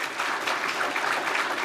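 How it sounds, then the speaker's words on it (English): Audience at a National Press Club of Australia address clapping for Cathy Raper, a dense, steady wash of many hands filling the room for under two seconds without a break. "We should give Cathy a clap."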